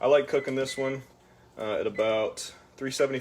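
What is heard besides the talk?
None of the usual background noises is heard.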